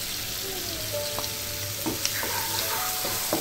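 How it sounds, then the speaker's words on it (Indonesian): Onions fry in a pan with ground nutmeg for a creamy macaroni dish, sizzling steadily up close while a utensil scrapes and stirs in short strokes. "Aduk, tunggu sampai bawang seluruhnya sudah layu dan berbau harum."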